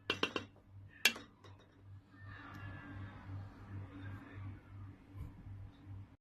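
A serving spoon clinking against a pot while dishing out dry khade mash lentil daal, with a quick cluster of sharp metallic clinks at the start, another single clink, then soft scraping over a low steady hum.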